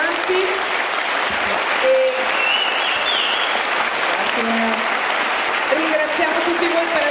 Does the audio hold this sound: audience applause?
yes